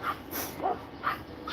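A decent-sized neighborhood dog gives a few faint, distant yips and barks in a quick irregular series, heard alone against a quiet outdoor background.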